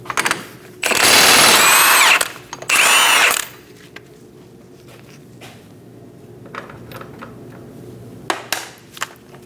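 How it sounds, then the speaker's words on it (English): A power tool with a 32mm socket removing the axle nut on a Scion xB, two loud close bursts of whirring and rattling impact followed by quieter clinks of handling metal. "we're going to remove our axle nut"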